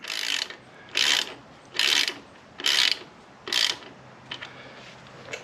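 A ratchet tightens the axle nut on a Harley Softail front wheel in five quick, evenly spaced bursts of clicking, close up, followed by faint rubbing, with no talking.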